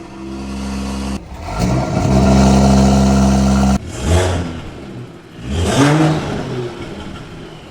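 A Mercedes-Benz GLE 450 with 367 horsepower idles loudly, then its engine is blipped in two strong revs that rise sharply and fall back, close and alone with no talk.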